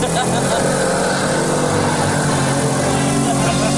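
Lotus-engined Lada car power sliding in third gear with wheel spin, its engine roaring loud and close in a steady, unbroken rasp throughout.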